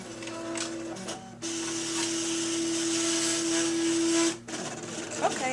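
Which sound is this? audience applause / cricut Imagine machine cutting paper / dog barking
cricut Imagine machine cutting paper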